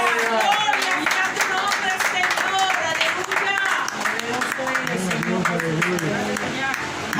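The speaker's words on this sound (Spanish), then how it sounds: "Denle fuerte aplauso a Cristo." A church congregation claps and applauds steadily and loudly throughout, mixed with voices and music-like tones underneath.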